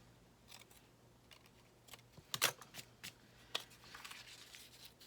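Scissors trim a paper napkin for a ring-bound journal, giving a few short crisp snips and rustles close by, with the densest cluster in the middle and quiet pauses between cuts.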